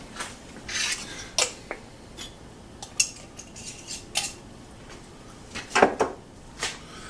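Fruit stirred in alcohol inside a glass mason jar, heard as scattered scraping and clinking of a utensil against glass, close and fairly quiet, with no voices.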